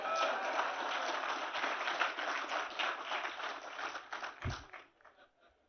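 Audience applause at a presidential speech in Indonesia, a dense patter of clapping that holds steady for about four seconds before fading out.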